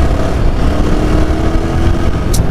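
A 2022 Yezdi Scrambler motorcycle engine answering the throttle, a loud, steady rumbling drone with wind roar heard close up for the full stretch, no one speaking over it.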